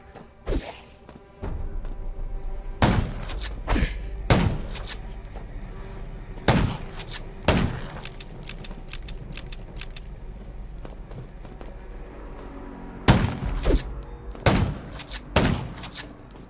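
Sharp gunshots crack out one after another in irregular clusters, loud and close, with a low steady hum underneath and no talking, during a zombie fight in the mobile game Undawn.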